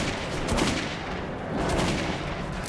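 Gunfire in the video game Metro 2033 Redux: a dense, steady stream of rapid shots crackling close and loud without pause, with no voices over it.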